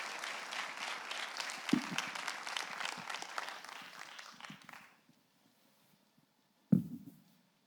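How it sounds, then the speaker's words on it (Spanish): Congregation applause at a church meeting, a steady moderate clapping that runs about five seconds and then stops dead, followed by silence and one brief sharp knock or clap near the end. "Un fuerte aplauso para Dios y para estos muchachos."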